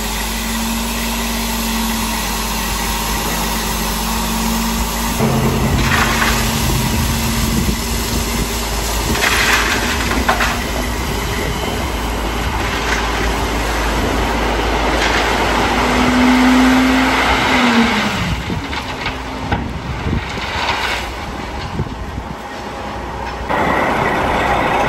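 A dump truck unloads a load of gravel into a pile at a muddy parking area, a steady engine rumble with the low roar of sliding stone building and fading over about twenty-five seconds, with no talk.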